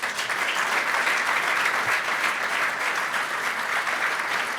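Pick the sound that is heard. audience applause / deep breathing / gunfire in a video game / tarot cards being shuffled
audience applause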